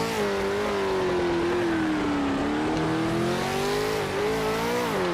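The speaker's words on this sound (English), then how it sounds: "Literally, GT JP2 V8 supercar." A GT JP2 V8 supercar engine racing in a video game, a loud continuous droning whine that rises and falls gently as the revs shift, with no speech over it.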